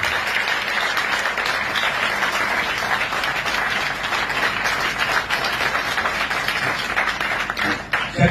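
A crowd at a gathering applauds continuously with dense, steady clapping that stays loud for the whole stretch and tapers slightly near the end.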